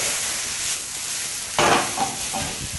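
Spaghetti aglio olio is stirred in a frying pan, a steady sizzle suddenly swelling into louder scraping and tossing noises near the end, close and without talk.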